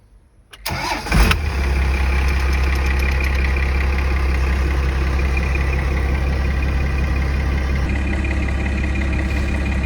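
A car fitted with a new clutch and a junkyard Getrag 360 gearbox cranks briefly, fires up close by and settles into a steady, rumbling idle.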